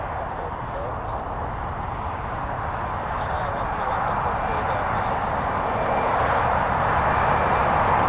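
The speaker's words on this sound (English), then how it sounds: "I think we got a Typhoon coming here to land" A Eurofighter Typhoon jet approaches to land at RAF Waddington, a broad steady engine roar that swells gradually louder as it nears.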